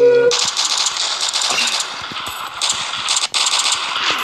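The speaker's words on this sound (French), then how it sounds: "Non, c'est le pistolet qui tire comme ça" A pistol in the Android shooter game Coalition fires rapidly, giving a dense stream of sharp metallic cracks and rattles, loud and close, with a voice talking underneath.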